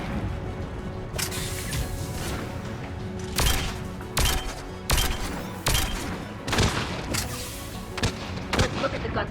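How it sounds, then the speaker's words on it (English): Geth anti-aircraft guns in the video game Mass Effect 3 fire in loud, sharp blasts spaced a second or two apart over a steady rumbling background, with bursts clustering toward the middle. "Geth anti-aircraft guns are up ahead."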